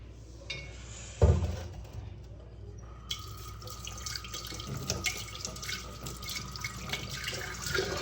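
Water poured from a tap to soak a black clay pot used for setting curd: a sharp clunk, then a steady splashing stream that runs on, moderately loud and close, with no voices.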